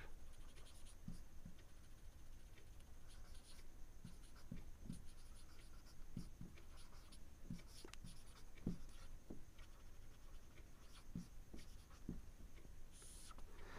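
A pen writing numbers on paper, quiet continuous scratching with short strokes repeating every second or so, close and faint over a steady background hiss, no talking.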